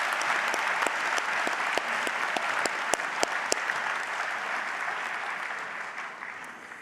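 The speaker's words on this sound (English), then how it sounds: "can we give Boyd another round of applause for that wonderful address?" Sustained applause from a university graduation audience in Auckland after a speaker's address, dense and even with a few sharp individual claps standing out, fading gradually toward the end.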